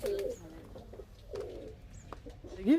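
Pigeons at a Bangladeshi high-flying pigeon loft in Canning, giving a few soft nearby coos with faint rustling and wing sounds between them, while a voice speaks briefly in the background.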